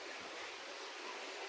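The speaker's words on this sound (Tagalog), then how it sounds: "Naglalagaslas." Water rushing beneath piled boulders in a rocky cave area in Camarines Norte, Bicol, a steady broadband roar heard faintly from a distance with no talk.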